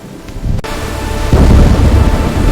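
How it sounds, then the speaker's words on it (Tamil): Heavy rain pours with a deep rumbling, thunder-like roar, swelling louder after a brief sharp break and continuing as a dense, close storm wash with no voices. "அப்போது வானம் இருண்டது. தூறல், மழை, பெருமழை, வெள்ளம் பெருக்கெடுத்து குப்புசாமியை குடையோடு அடித்துச் சென்றது."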